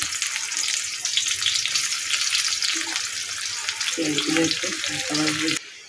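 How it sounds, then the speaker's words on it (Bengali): Chopped onion frying in hot oil in a pan for a hilsa fish dish, a loud, steady close sizzle that runs throughout with a few clattering stirs toward the end before cutting off abruptly. "পেঁয়াজটা ভেজে নিয়েছি"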